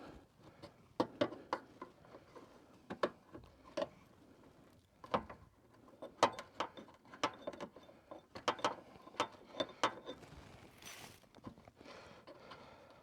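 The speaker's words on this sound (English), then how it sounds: "looks like a 5/8 inch wrench here. We'll see if we can loosen this up" A 5/8 inch wrench working a lift-system bolt on a Rockwood Freedom pop-up camper, giving irregular sharp metallic clicks and ratcheting taps close by, separated by short quiet gaps.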